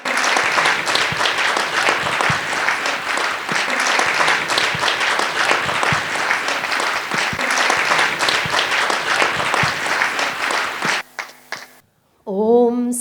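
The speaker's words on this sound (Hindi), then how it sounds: "जोरदार तालियों के साथ।" Loud, sustained applause from a large crowd at the Swarnim Seva Mahotsav 2024 celebration fills the space for about eleven seconds, then breaks off into a few scattered claps.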